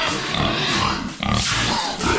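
A barako boar pig on a farm gives loud, continuous grunts and oinks close by, with a brief dip about halfway before the grunting resumes.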